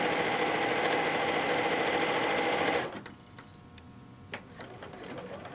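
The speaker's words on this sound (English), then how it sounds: "So we're going to sew all the way down." Home sewing machine stitches a quarter-inch pillowcase seam in a fast, even whirring run for about three seconds, then stops, leaving light clicks and handling noises.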